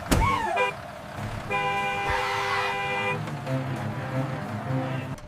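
A bus horn toots in a children's song, one sharp horn blast at the start followed by a long sustained tonal honk in the middle, with softer vehicle noise and faint voices around it.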